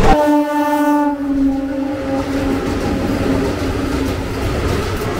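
Netaji Express passenger train between Deen Dayal Upadhyay and Howrah sounds a long horn blast at the start, then runs on with a steady, loud rumble of carriages.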